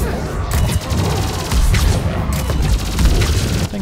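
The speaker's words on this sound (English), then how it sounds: "I think Reeve is causing explosions." Explosions in Mass Effect 3 Husk Mode multiplayer combat: a dense, continuous roar of booming blasts and crackling gunfire, loud and close, with no clear pauses.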